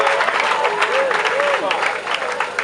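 Wedding ceremony audience applauding briefly, a burst of scattered clapping, with a voice talking over it.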